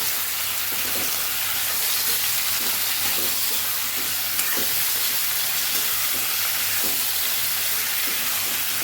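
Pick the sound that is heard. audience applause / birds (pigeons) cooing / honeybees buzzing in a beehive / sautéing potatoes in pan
sautéing potatoes in pan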